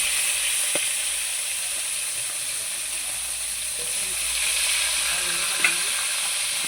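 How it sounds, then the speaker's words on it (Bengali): Hilsa fish frying in a pan gives a steady, fairly loud hiss and sizzle throughout, with a few faint clicks and light stirring sounds and no talking. "এই দেখো মাছটা ভেজে নিচ্ছি"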